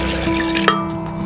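Three-quarters of a cup of water pours into a blender for a strawberry daiquiri, a short, close, fairly loud gush and trickle with a quick splash partway through, no voices.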